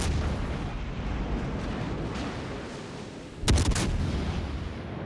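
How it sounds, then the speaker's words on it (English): Naval guns firing high-explosive shells in World of Warships Legends rumble as a low, continuous wash, and a single loud, close boom strikes about two-thirds of the way through. "North Carolina is still firing HE."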